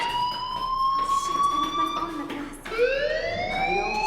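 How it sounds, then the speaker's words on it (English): A fire alarm rings in the video game Life is Strange, a loud electronic wailing tone that sweeps and restarts on a higher rising pitch partway through. "do you hear that fire alarm?"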